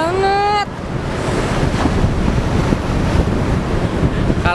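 Strong wind at a beach rushes and buffets the microphone over rolling surf, loud and continuous, with a brief tonal whistle-like sound at the very start.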